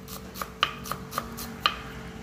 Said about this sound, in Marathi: कांदा कापायला आपण पहिला बरिस्ता बनवून घेणार आहे.